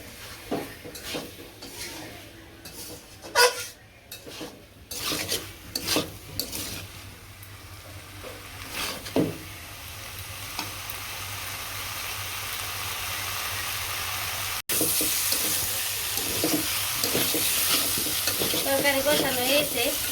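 Jackfruit and shrimp curry stirred and sautéed in a village kitchen pan, with repeated scraping strokes of a spoon over a steady frying sizzle that grows louder and brighter toward the end; no voices.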